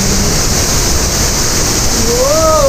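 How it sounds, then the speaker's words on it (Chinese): Shuiliandong waterfall, the upper tier of a mountain waterfall group at Lalashan, Taoyuan, pours with a steady, close, dense roar that never lets up, and a brief high whistling tone rises over it near the end. "随着水声越来越大，瀑布群上层的水帘洞瀑布现身喽！"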